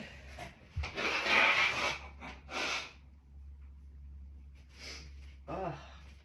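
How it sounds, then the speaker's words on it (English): A person blows their nose in a few loud, breathy bursts close to the mic, with short snorts and sniffs between them and quiet pauses after. "I have to blow my nose again."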